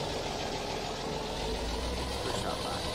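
A small tractor idles in Farming Simulator, its engine a steady, continuous low drone with a faint knocking texture that holds even throughout.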